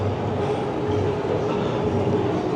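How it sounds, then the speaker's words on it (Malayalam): A train rumbles along an elevated track beside a shopping mall in Bangkok, Thailand, a steady, continuous low roar with a faint tonal whine, moderately loud and unbroken throughout. "അപ്പോൾ മേളിൽ കൂടെ വരുന്നത് ട്രെയിൻ പോകുന്നത് കാണാം നിങ്ങൾക്ക്"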